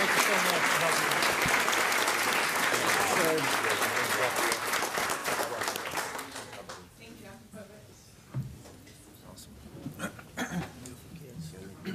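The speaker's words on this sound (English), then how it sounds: "How about another big round of applause?" An audience at a school board of trustees meeting breaks into loud, sustained applause that fades after about six seconds, leaving scattered claps, shuffling and a speaker talking in the room.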